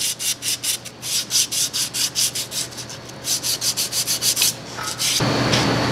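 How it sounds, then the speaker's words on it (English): Sandpaper rubbing a glazed rear brake shoe from a Jeep Cherokee, a steady run of rhythmic back-and-forth rasping strokes, close and fairly loud, ending in a continuous hiss. "This shoe is considerably worse, but sandpaper comes right off."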